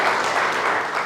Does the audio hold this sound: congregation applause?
yes